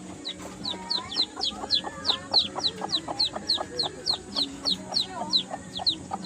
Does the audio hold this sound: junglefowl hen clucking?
yes